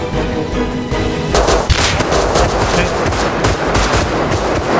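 Rapid bursts of automatic gunfire from the survival game Rust crack loudly and densely, overlapping in a sustained volley with booming reports, close and intense throughout with no talking.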